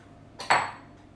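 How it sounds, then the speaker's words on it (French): A mixing bowl is picked up and set down while making eggless cocoa madeleines, giving one short, close clatter of bowl on counter in an otherwise quiet kitchen. "Je vais prendre un autre saladier."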